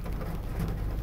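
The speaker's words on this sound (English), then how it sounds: "Hopefully you can hear me over the rain pounding on my car roof." Heavy rain drums steadily on a car roof, a dense, continuous close patter with no pauses, filling the space evenly throughout.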